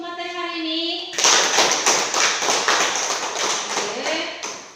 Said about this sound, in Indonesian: Tepuk tangan dulu untuk materi hari ini